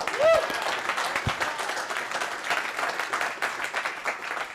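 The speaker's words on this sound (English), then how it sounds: "everybody give a round of applause for Levi." An audience at ChefConf 2016 applauds a speaker's first conference presentation, with steady, moderately faint clapping throughout and a short tone near the start.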